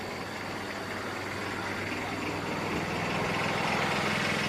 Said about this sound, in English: I hear what sounds like a car pulling up or something.